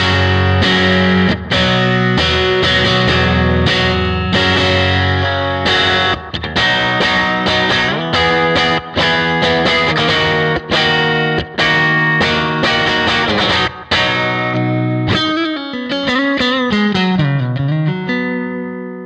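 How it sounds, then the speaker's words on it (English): Electric guitar run through an overdriven amp model on a Line 6 Helix, playing loud, continuous distorted chords and riffs with a few short breaks, then fading into a sustained bending note near the end. "let's try like a little overdrive thing."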